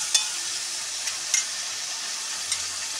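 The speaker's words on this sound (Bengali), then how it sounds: "এবার নাড়াচাড়া করবো।" Spice masala fries with a steady hiss in a pan, punctuated by a few soft clicks of a stirring spoon.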